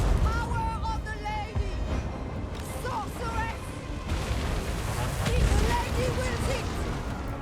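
Artillery cannon fire in the video game Total War Warhammer, repeated deep booms and blasts rumbling over battle noise, with voices and other game sounds mixed in.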